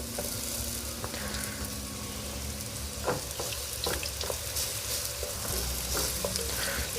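Beijing beef being stir-fried in a hot pan, a steady loud sizzle with scattered crackles and the scrape of stirring, close and continuous with no talking.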